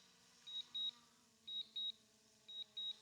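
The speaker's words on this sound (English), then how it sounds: "So it's beeping because it thinks there's things in the way." A drone sounds its obstacle warning while landing: soft, high paired beeps repeating about once a second, three double pulses over a quiet hum.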